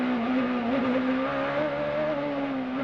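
Onboard a CART race car on the 1999 Houston street circuit, the engine holds a loud, steady high-pitched drone, shifting pitch slightly as the driver short shifts, with no talk over it.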